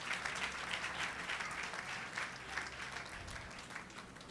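Congregation in a Sunday church worship service clapping steadily together, a dense, continuous wash of applause from many hands, moderately distant and filling the room.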